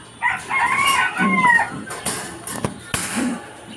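Bantam chickens crowing and clucking close by, one drawn-out crow followed by short scattered clucks, in a backyard coop kept alongside pigeons.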